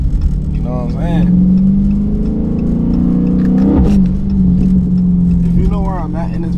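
A Dodge Scat Pack with the 392 engine accelerating at night, a loud close engine note rising through the gears with a shift around the midpoint, while a voice talks over the drone.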